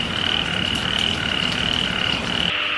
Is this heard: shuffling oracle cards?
no